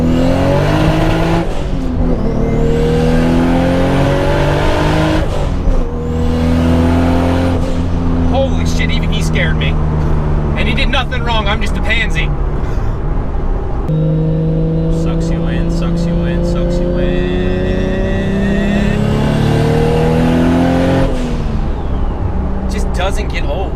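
A Toyota Supra with a manual clutch revs and accelerates hard in repeated pulls, its engine note climbing and dropping between gear changes, loud and close from inside the car, with people talking over it.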